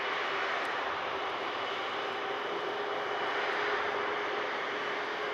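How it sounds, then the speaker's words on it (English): Virgin Airbus A330 with Rolls-Royce Trent 700 engines at Manchester Airport gives a loud, steady broadband jet roar with a deep rumble that holds unbroken throughout, with no voices. "Proper rumble here from the Rolls-Royce Trent 700s of the Virgin Airbus A330."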